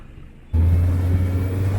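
A 90-horsepower boat motor on a river starts abruptly after a quiet moment, then holds a loud, steady low hum close by.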